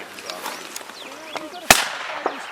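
A .410 shotgun fired from the hip at a bird gives one sharp, loud report partway through, set against light outdoor ticks and chirps, with a faint voice before and after.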